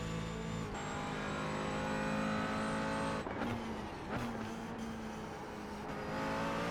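Porsche race car engine in a road racing video game, loud sustained high-pitched whine with shifting revs and brief dips between gear changes, a car passing close by, no talk.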